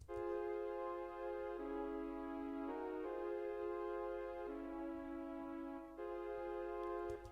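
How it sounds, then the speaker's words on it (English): A smooth synth pad from the Amigo sampler in high quality mode plays sustained chords that shift every second or so, clean and full, with a soft low hum underneath. "this is the chord Pacific pad in like modern day high quality mode."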